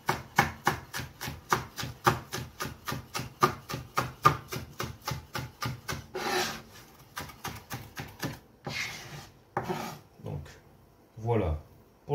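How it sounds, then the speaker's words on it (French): Knife finely slicing half a spring onion for a tomato tartare, a quick steady run of crisp chopping taps on a board for about six seconds, then scattered slower cuts and handling noises. "La demi-cébette, on va l'émincer."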